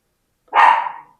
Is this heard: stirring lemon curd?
no